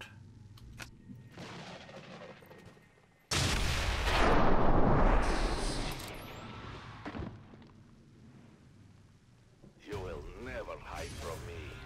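XCOM 2 gunfire erupts suddenly as one loud, heavy blast that rumbles and then fades, followed by lighter thuds, with spoken voices before and after.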